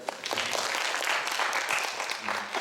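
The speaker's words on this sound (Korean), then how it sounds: "박수 한번 쳐주세요" Short burst of audience applause in a church service, a congregation clapping briefly and fairly softly, with some voices mixed in.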